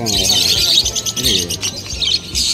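Lovebirds chirp and chatter in quick bursts close by at a pet bird market in Dakshineswar, Kolkata, with a low murmur of voices and crowd noise underneath.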